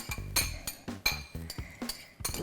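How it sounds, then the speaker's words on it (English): Cauliflower for a pizza crust being mixed in a bowl, giving about half a dozen close, irregular clinks and scrapes of a utensil against the dish, with no talking. "So let's take this cauliflower and mix this cauliflower in here"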